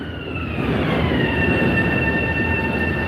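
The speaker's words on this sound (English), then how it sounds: "how many of these trains want to go by when I'm talking" A Long Island Railroad train passes slowly by, a loud, steady rumble topped with sustained high-pitched squealing tones.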